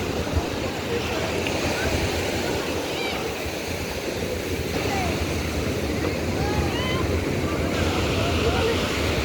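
Ocean surf rolling onto the beach at Jagannath Puri, a steady broadband wash of waves that stays loud and continuous throughout, with faint voices and distant activity mixed into the roar.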